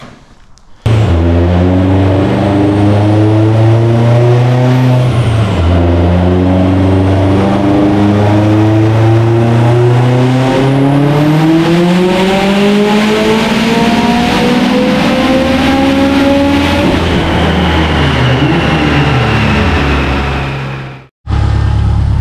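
A Subaru STI running a 6466 turbo at 45 psi roars through a sustained dyno pull, engine note climbing steadily in pitch for about twenty seconds before cutting off abruptly, loud and close with no talk.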